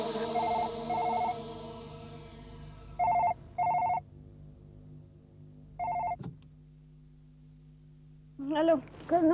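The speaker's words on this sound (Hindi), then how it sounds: "हाँ, अभी फोन आया था शैलेश का" A telephone bell rings in short repeated double bursts, with a sustained tonal hum and quiet gaps between rings, and a further ring near the end.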